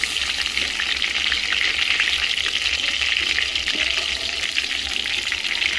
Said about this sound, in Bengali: তেলের মধ্যে লাল লাল করে মাংসগুলো ভেজে নিতে হবে।